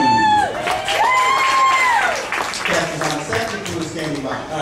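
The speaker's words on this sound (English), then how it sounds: "So a round of applause for our Captain Jamie and his wacky deck crew" Studio audience cheering and whooping for a television crew, a loud burst of voices with scattered clapping that gradually thins out toward the end.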